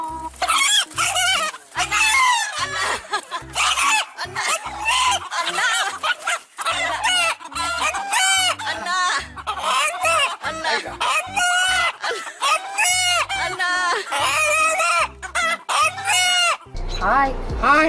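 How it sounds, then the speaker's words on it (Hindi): A rooster in Sangli district, India, crows and clucks in repeated loud, close bursts across the whole stretch, with pig-like grunts and other farmyard noise mixed in. "एक ऐसा मुर्गा मौजूद है जो अन्ना करके अपने मालिक को बुलाता है"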